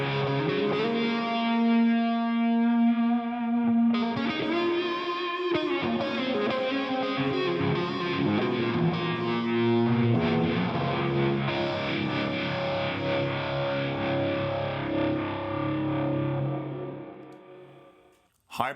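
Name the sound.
electric guitar through Overloud TH-U Psycho rocker wah preset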